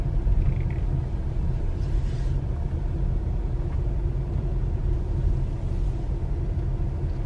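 A car rolls slowly through a parking lot at Daisy Town in Elkmont in the Smoky Mountains, heard as a steady low engine and road rumble from inside the vehicle, unbroken and without speech.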